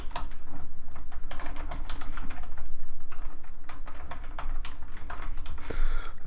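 Fingers type a command on a computer keyboard in a quick, uneven run of close, crisp key clicks with short pauses, with no talking.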